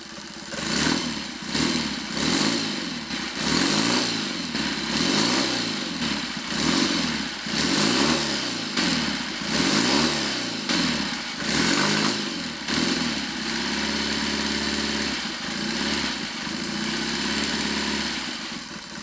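A Triumph/Royal Enfield 'Trifield' 500 trials motorcycle engine runs while warming up after carburettor work, loud and close, with a lumpy, pulsing idle that rises and falls in repeated blips before settling into a steadier tickover.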